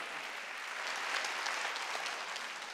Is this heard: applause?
yes